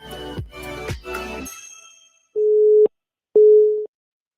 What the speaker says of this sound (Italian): Mi sa che è caduta la telefonata con Laura